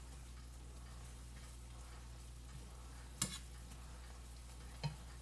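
Animal heart and tongue simmer in a pot on the stove, a low steady bubbling hiss broken by two sharp clinks, close and quiet, with no voices.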